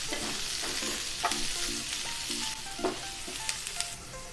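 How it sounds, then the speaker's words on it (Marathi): Thinly sliced onion sautés with cumin in a pan for misal. A steady close sizzle is broken by repeated spoon-on-pan clinks and light stirring scrapes. "कांदा आपल्याला थोडासा परतून घ्यायचा आहे आधी."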